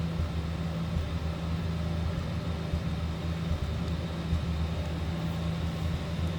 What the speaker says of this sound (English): That slant 6 purring away, again 225 cubic inches